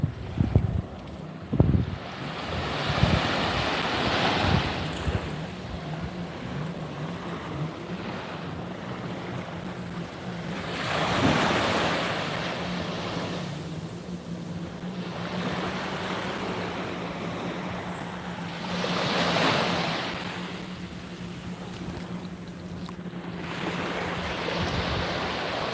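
Ocean surf surging onto Paynes Bay beach on the west coast of Barbados: waves break and wash in repeated swells every few seconds over steady wind noise, close and fairly loud, no talking.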